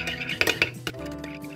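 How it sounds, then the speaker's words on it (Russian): A spoon stirs a yogurt sauce with salt, pepper and sugar in a bowl, making a few sharp clinks against the side and soft scraping between them, close and brief. "Все тщательно перемешиваем."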